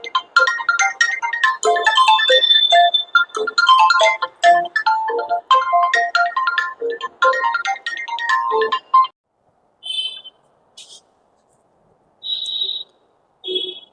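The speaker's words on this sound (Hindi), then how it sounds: "फोन आ रहा है," A mobile phone rings during a maths lesson. Its bright, busy melodic ringtone plays loudly for about nine seconds, then trails off into a few short, separate electronic beeps.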